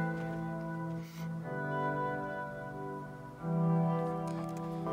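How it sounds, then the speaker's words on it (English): Airy, soft synth pad sustaining a slow chord progression, the chords shifting smoothly and holding steadily with no talking. "And I just really like the pad sound."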